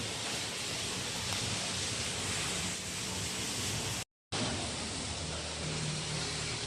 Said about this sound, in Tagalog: Pakita ko sa inyo yung ulan.